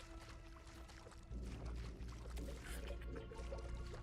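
Water pouring in the survival game Grounded 2, a steady rushing trickle that swells louder partway through and continues without pause.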